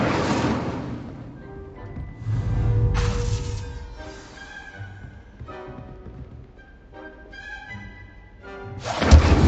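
An Incendio fire spell cast in a Harry Potter video game, a deep whooshing burst with low rumbling thuds and sparkling tonal effects that fade, then another loud burst at the end, with no talk.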